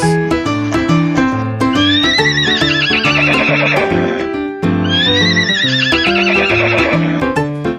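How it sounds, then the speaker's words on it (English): A horse whinnies twice over bright, bouncy instrumental music; each neigh rises and wavers above the steady melody. "It's a horse."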